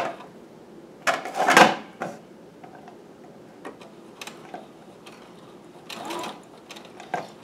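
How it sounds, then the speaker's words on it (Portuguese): A lightweight sewing machine stitching a bag with a long continuous stitch runs in short mechanical bursts, with ticking and clicking of the mechanism between louder runs. "Gente, essa máquina, ela é muito leve."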